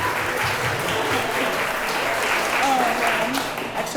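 Steady applause from a room full of people fills the clip, a dense even clatter of hands with faint voices mixed underneath.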